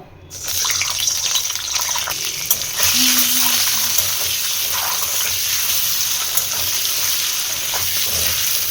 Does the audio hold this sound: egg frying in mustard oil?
yes